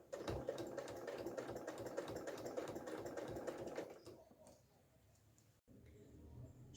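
A sewing machine runs close by, stitching around the edge of red fabric on a placemat, a fast rhythmic clatter for about four seconds before it stops and quieter handling noises follow.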